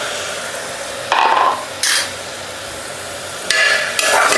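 Chopped tomatoes sautéing in a pan for a hot and spicy chicken soup, with a low background sizzle broken by several short, sharp bursts of stirring and scraping against the pan.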